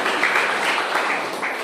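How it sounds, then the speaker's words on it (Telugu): An audience claps at a Bhagavad Gita class held at the Sai Baba Temple in Puttaparthi, a short, steady burst of dense applause with no voices over it. "ఇప్పుడు కొట్టండి క్లాప్స్."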